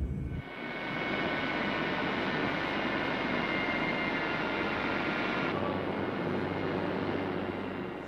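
A ring spinning machine in a carpet yarn mill winds yarn onto bobbins with a loud, continuous whirring drone that holds steady throughout, with no voices.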